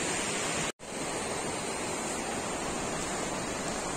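A waterfall and stream pour steadily on a Gosaikunda mountain trek in Rasuwa, a loud, dense, continuous rush of water. It breaks off for a split second near the start, then flows on unchanged.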